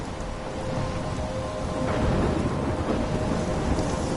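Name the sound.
thunderstorm with rain in Life is Strange video game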